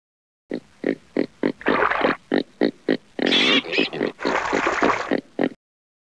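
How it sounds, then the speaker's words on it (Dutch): Pig grunting and oinking in a children's alphabet show: a run of short, close, evenly spaced grunts, then longer snorting squeals and rough oinks before it stops. "Varken."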